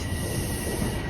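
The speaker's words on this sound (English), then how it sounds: "Northbound train to Finch." Toronto subway train on Line 1 running northbound to Finch, a loud, steady rumble of wheels on track with a high, sustained squeal throughout, heard up close with no talk.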